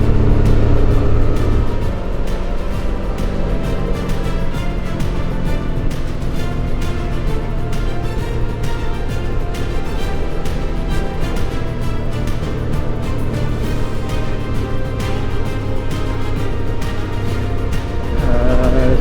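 Motorcycle in third gear coasting down a gentle downgrade on a clear day, its engine giving a steady, loud droning rumble mixed with wind noise throughout.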